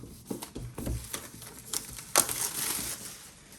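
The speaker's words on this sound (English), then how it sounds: "All right, plastic is off." Plastic film crinkles and tears as it is stripped off a 2021 16-inch MacBook Pro M1 Max box, several close crackling bursts with a sharp rip near the middle, no talking.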